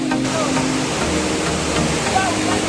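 Hidden waterfall at Kaner Phata off the Virar Highway, heard as a steady, dense roar of rushing, splashing water that fills the whole clip, with faint voices mixed underneath.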